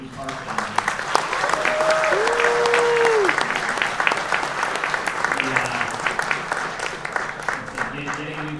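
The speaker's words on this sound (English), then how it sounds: "Give a round of applause for the new park." Audience applause at a Busch Gardens Williamsburg member town hall, a full crowd clapping steadily and loudly for several seconds from a front-row position, with cheers and voices mixed in and the clapping tapering off toward the end.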